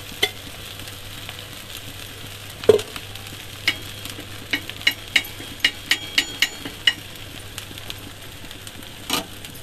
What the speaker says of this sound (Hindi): तो चीला डल गए है ऊपर तवा में। तेल डाल।